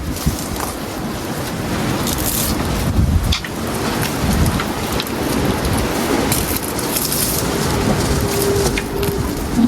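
Gusty, roaring rush of strong wind buffeting the microphone, loud and continuous with occasional sharper bursts, no voices.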